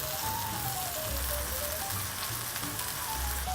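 Steak fajitas sear in a hot pan, a steady, dense sizzle that holds close and even throughout with no break.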